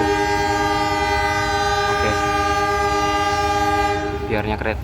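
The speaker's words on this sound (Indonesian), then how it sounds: "Biarkan kereta Motis itu berangkat dulu." A train horn blares in a long, sustained tone over rumbling rail noise as the train departs Lempuyangan station, ending as a voice speaks briefly at the close.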